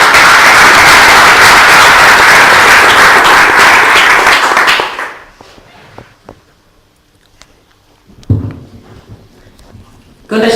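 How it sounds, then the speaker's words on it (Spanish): Strong applause for Laura García Gato at a Spanish novel presentation, loud steady clapping from an audience that cuts off sharply, followed by quiet room sounds and a brief voice. "Pido un fuerte aplauso para Laura García Gato."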